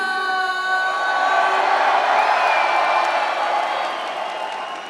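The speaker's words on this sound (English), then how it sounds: "I love those applause" A wrestling crowd in El Paso cheers and applauds, with whoops rising above a dense, steady wash of noise that stays loud throughout and fades slightly at the end.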